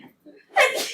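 A single sharp sneeze bursts out after a soft intake of breath, loud and close.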